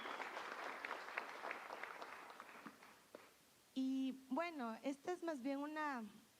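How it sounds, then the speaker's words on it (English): Audience applause at a TEDx event in the Amazon, a dense wash of clapping for the first three seconds that fades out, followed by a voice speaking clearly and alone. "A great applause to her, please."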